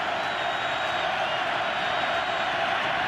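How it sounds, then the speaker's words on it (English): NFL stadium crowd at a 2013 Steelers at Ravens game roaring on a third-and-6, a dense, continuous wall of cheering held at an even, loud level throughout. "Crowd in full voice on a 3rd and 6 from the 38-yard line."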